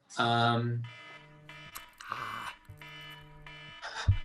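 A kitchen-style timer alarm goes off in the middle of a podcast conversation. It gives steady electronic tones in repeated bursts, with voices and other sounds mixed in around them.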